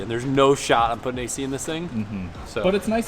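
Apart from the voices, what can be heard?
None of the usual background noises is heard.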